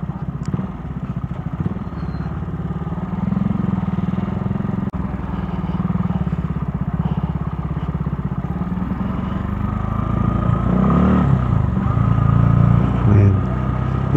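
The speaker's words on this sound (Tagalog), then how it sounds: "engine ko, yan, naka-engine brake ako nyan" A Honda Rouser motorcycle engine-brakes while descending a rough, bumpy road, a steady close engine drone with clattering from the uneven surface, rising slightly toward the end.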